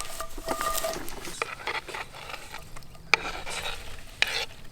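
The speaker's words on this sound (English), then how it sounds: "Oh, look at that, just sizzling in the butter." Morel mushrooms sizzle in melted butter in a pan, a soft, uneven hiss broken by scattered pops and stirring scrapes, with two sharp clicks standing out near the end.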